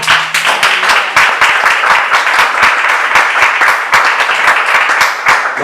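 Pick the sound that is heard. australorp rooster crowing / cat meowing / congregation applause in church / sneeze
congregation applause in church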